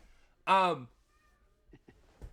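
A single clear cat meow rises and falls near some steps at night, followed by quiet and a few faint soft sounds.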